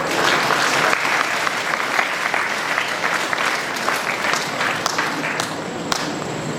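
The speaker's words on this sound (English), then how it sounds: "Let's give them a big round of applause." Sustained loud applause from an audience at an Aloysius Day skit and cultural program at Apostolic School, Gumla, dense steady clapping filling the whole stretch with no break.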